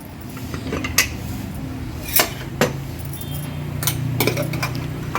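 A pressure cooker lid being opened after cooking dal, heard as a few sharp metallic clinks and clatters spread across several seconds, close by in a kitchen.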